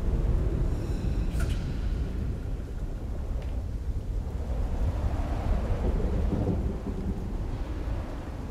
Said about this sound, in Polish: Bardziej nadchodząca burza.